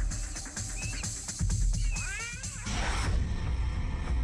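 A cat stalking a rat gives a drawn-out, wavering meow over close rustling and scuffling, brief and moderately loud.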